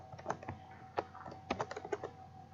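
Typing on a computer keyboard, with a quick run of close, crisp key clicks in uneven bursts and short pauses between them, alone with no voices.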